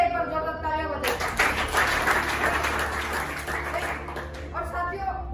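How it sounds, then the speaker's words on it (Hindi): An audience breaks into strong, sustained applause at a motivational speech event, many hands clapping in a dense wash for about three and a half seconds before tapering off as the speaker's voice returns. "खुद के लिए एक बार जोरदार तालियां बजाइए।"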